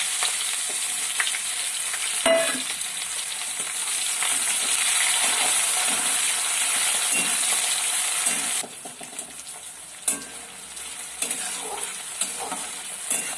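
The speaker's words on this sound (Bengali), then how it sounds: "আজকে মাংস রান্না করছি" Meat frying loudly in a pan, a dense continuous sizzle with scattered clinks and scrapes of a utensil; the sizzle drops in level partway through while stirring knocks continue.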